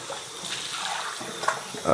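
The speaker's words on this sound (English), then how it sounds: "This is just letting it sit under some cold water" Cold tap water runs steadily over black-and-white film being washed during home developing, a continuous gentle splashing hiss with no talk.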